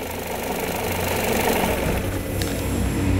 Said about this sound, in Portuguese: Desliga para nós o motor, por favor, Matias.